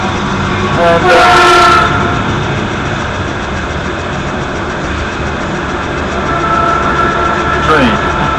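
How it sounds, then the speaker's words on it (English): A train passes with a continuous loud rumble and rattle of wagons, and brief horn-like blasts near the start and end cut through the steady roar. "I hate this train."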